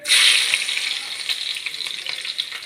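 Chopped shallots dropped into hot oil in a pan with fenugreek seeds for a fish curry, a loud hissing sizzle that bursts at first, then settles into steady crackling frying with faint stirring.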